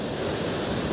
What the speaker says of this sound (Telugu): నీళ్ళ సౌండ్ ఎట్లా వస్తుంది చూడరు ఇగో